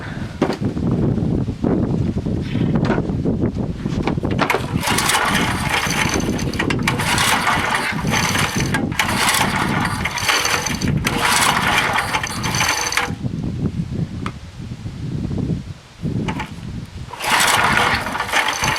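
An old Craftsman 2400-watt portable generator runs with its choke off, its engine a steady, close, rattly mechanical drone that continues without a break for the whole stretch.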